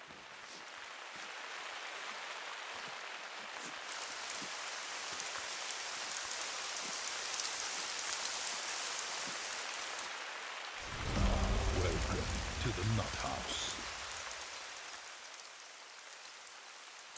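Steady rain hiss in theHunter: Call of the Wild, constant and moderately loud, with a low rumble of thunder rising near the end.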